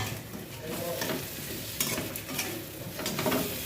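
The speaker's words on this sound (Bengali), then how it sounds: "সাদা জির গোটা জিরা সম্বার তেজপাতা সম্বার দিয়েছি" Whole cumin seeds and bay leaf crackle in hot oil as a tempering for a paneer curry, a close, busy sizzle broken by a few sharp pops and stirring scrapes.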